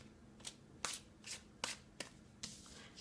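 Tarot cards being shuffled by hand, a series of six crisp riffling bursts at uneven intervals, close and fairly quiet against a near-silent background.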